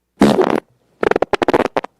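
A loud fart sound effect: one long, rough blast, then after a short pause a rapid string of short, sputtering bursts, with no talking.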